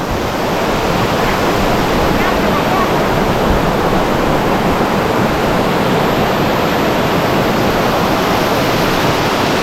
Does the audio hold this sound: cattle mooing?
no